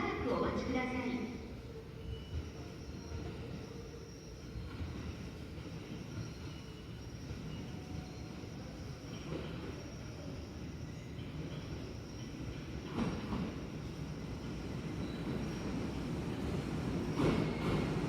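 A Kintetsu 8810 series express train bound for Kyoto heard from inside, with a continuous low rumble of wheels and motors that swells toward the end while onboard announcements play over it.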